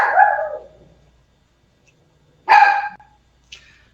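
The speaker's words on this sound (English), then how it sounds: "I apologize for my dog, but he's starting to bark at somebody" A dog barks twice in a quiet room, a loud single bark followed after a pause by a second bark and a faint short yip, with no talk over it.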